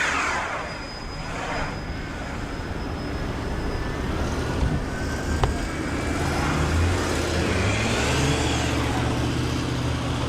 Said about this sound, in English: You're both spinning your tires right now.